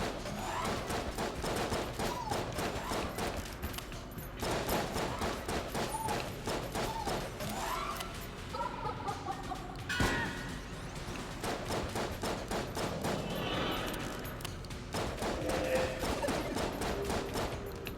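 Rapid bursts of gunfire from a boss gun in Enter the Gungeon, repeated volleys of sharp shots firing in quick rhythmic runs with brief pauses, accompanied by game effects and no talking.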